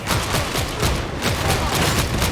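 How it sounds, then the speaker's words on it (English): Quick, evenly spaced pistol shots crack loud and close in Warhammer 40000 Darktide, firing in a steady rapid rhythm with no talk. "I got those dinky little pistols"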